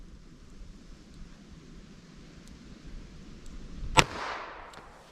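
A single sharp gunshot from a .32 S&W Long wadcutter round cracks near the end, loud and close, followed by a brief decaying echo over faint outdoor background noise.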